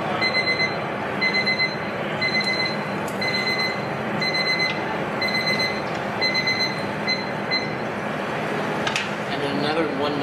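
A kitchen timer alarm beeps in repeated short clusters while donuts fry in hot oil, its bright chirps cutting over a steady sizzling hiss for about ten seconds.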